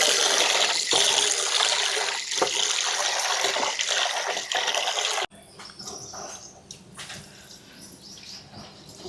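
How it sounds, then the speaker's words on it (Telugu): Moong dal and rice are washed in water for a bellam pongali. Steady sloshing and splashing runs loud throughout, then drops to quieter dripping and swirling after an abrupt change partway through. "ఈ పెసరపప్పు కూడా ఇందులో వేసేసుకొని శుభ్రంగా కడుక్కుందాం"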